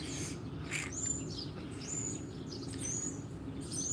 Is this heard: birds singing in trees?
yes